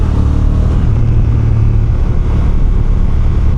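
A 2025 Honda NT1100 DCT motorcycle engine pulls steadily near 3,000 RPM with a lumpy, throbbing low drone, loud and close throughout without a break.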